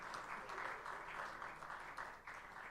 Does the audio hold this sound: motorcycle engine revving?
no